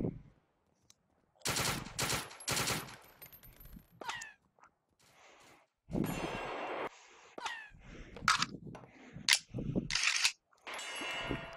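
Gunshots in the VR shooter BAMVR, a multiplayer match: sharp bursts of fire and single cracks that come in separate clusters with gaps of quiet between them.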